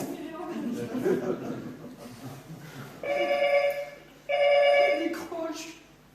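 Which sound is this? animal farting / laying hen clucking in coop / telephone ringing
telephone ringing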